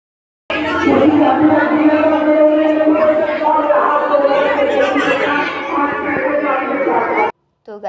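A dense crowd of devotees packs a Shiva temple, a loud continuous hubbub of many overlapping voices, chatter and calls close around the listener, cutting off abruptly at the end.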